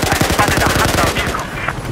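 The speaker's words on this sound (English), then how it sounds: "Shoot him while he's climbing" Rapid automatic gunfire in the space combat game SpaceDockers, a dense rattling burst of shots fired at an enemy climbing, loud and sustained with game noise underneath.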